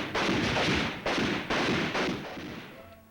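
Rifles fire at a military rifle range, a series of sharp reports roughly half a second apart, loud and fairly close, each with a decaying tail.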